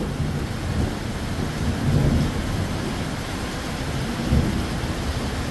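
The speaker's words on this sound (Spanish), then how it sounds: "siempre que pasa un rayo viene el estruendo." Thunder rumbles deep and loud through a heavy storm in Chalatenango, El Salvador, with a constant wash of rain under it and two swells of rolling booms.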